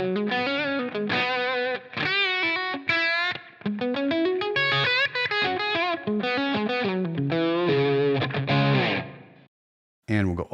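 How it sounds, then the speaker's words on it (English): Electric guitar through a REVV Tilt Overdrive pedal with bass turned all the way down plays a busy riff with a thin, bright, bass-light tone, loud and continuous before a brief gap near the end. "We'll bring it all the way down."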